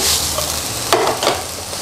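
Chicken frying with garlic in a pan gives a loud continuous sizzle, with a couple of stirring scrapes partway through.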